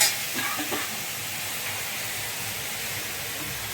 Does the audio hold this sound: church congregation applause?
no